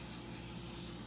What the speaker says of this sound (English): let's spray this real good